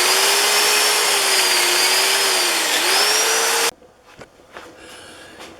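A steady, loud whirring drone from a lathe sanding a wooden mug, with slightly wavering pitch, runs for several seconds, then cuts off abruptly, leaving quiet scattered knocks and rustles.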